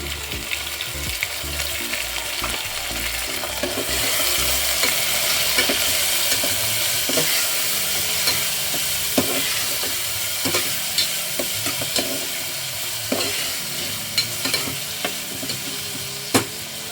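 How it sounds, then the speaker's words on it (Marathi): Dal and crisped onion with turmeric fry in a pan with a steady close sizzle, while a spoon stirs and scrapes repeatedly, sharp clicks of utensil on metal punctuating the continuous hiss, no voices. "तर आता याच्यामध्ये टाकणार आहे आपण थोडीशी हळद आणि डाळ चांगली भाजून घेणार आहे आपण थोडी."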